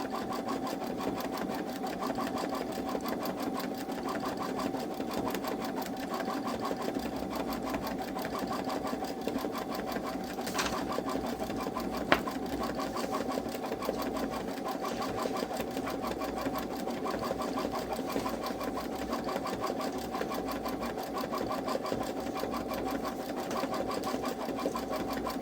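A Babylock Solaris 3 embroidery machine stitches an Easter bunny feet design in the hoop, a fast, steady mechanical chatter that runs continuously and evenly throughout, close by.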